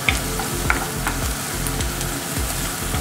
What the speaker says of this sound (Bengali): এটাকে হালকা করে ভেজে নেব